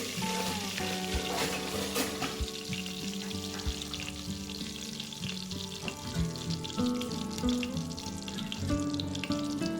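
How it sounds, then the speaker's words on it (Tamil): Oil crackles and sizzles steadily as curry leaves fry in a pan, with light stirring noises and faint tonal hum in the background. "அது நல்லா ஃப்ரை ஆனோடனே கருவேப்பிலை போட்டுக்கிறேன்"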